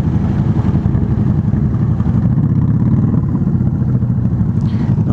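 A customized Yamaha Drag Star 650 cruiser motorcycle with a sport exhaust idles close by at a biker gathering in southern Brazil, a loud, steady, throbbing rumble that continues throughout.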